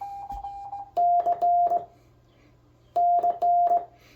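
Morse code keyed on a GHD GD105 contactless optical bug key: two bursts of a steady, clean sidetone beep in short repeated dashes and dots, clear and close over a faint background hum.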